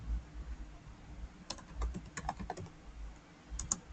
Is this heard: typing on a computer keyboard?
yes